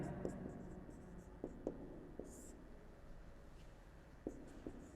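Chalk or marker taps and strokes on a board during a math lecture come as faint, sparse clicks and short scratches, with low murmured speech.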